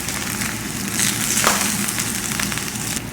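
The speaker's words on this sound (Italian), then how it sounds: "È importante far rosolare soltanto 2 pezzi di pollo alla volta per non abbassare la temperatura." Chicken pieces browning two at a time in a hot pot for pollo alla cacciatora, a steady close sizzle and crackle of frying throughout.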